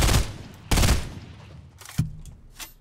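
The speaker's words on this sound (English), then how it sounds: "You keep shooting so those guys rifting can come to you." Gunfire in Fortnite Battle Royale, with three sharp, loud shots spaced apart, the last followed by a fainter fourth report, each with a short decaying tail and no talking.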